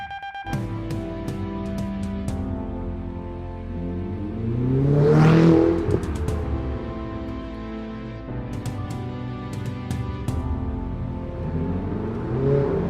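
A Ferrari 488 engine revs and accelerates through several gear changes, with one loud surge as it roars past and tones rising and falling.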